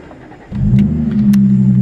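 A 2013 Audi S5 B8.5 engine cranks and fires up with a sudden low roar, then settles into a deep, steady idle rumble close by.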